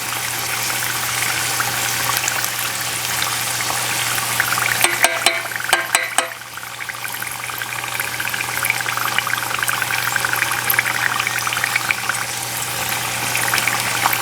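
Spring rolls bubble and crackle in hot oil, a steady close frying hiss with a brief cluster of sharper pops and clatter partway through, no talking.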